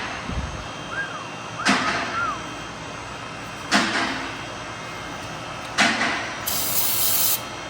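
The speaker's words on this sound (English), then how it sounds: "Using just some regular old brake cleaner." Three short bursts of brake cleaner sprayed onto carbon deposits in an EGR part, each a sharp hiss lasting about a second and spaced a couple of seconds apart, close and fairly loud, with one longer steady spray at the end.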